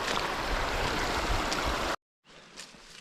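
A mountain stream runs around hikers' Gore-Tex boots as they wade through the water. The rushing flow is loud and close, then cuts off abruptly and returns as a fainter trickle.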